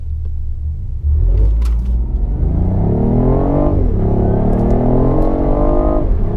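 A 2018 BMW i8 coupe hybrid in full sport mode accelerates hard, its engine note rising through a gear change and climbing again, loud and close with deep rumble.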